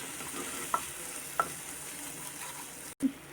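A spoon stirs chicken tikka masala with fresh cream in a pan, giving a soft steady simmering hiss and a few light utensil clinks against the pan.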